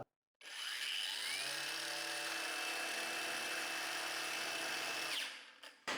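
A Parkside PWSAP 20-Li cordless angle grinder, fitted with its basic accessories, runs up to speed with a loud, steady high whine and strong vibration. It holds for about five seconds and then winds down.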